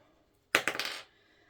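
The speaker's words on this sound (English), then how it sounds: "Roll the 10-sided dice." A ten-sided die is rolled, giving a sharp clatter followed by a few quick rattling bounces that settle within half a second, close and alone.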